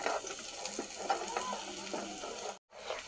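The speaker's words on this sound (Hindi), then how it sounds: "तेल गर्म हो गया है तो इसमें हम प्याज को डाल देंगे," Onion sizzling and frying in hot oil in a kadhai, a steady crackling sizzle with stirring scrapes throughout, briefly cut off near the end before resuming.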